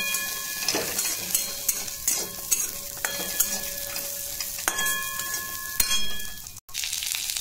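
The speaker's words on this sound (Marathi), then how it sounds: "आता यातच आपल्याला मनुके पण भाजून घ्यायचं आहे" Raisins roasting in ghee with semolina sizzle steadily in a pan while a spoon stirs and scrapes, producing close, continuous frying hiss punctuated by light metallic clinks.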